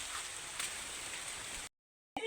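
Steady rain pours down outdoors at a coconut harvest, a dense continuous hiss that cuts out abruptly near the end before a brief return.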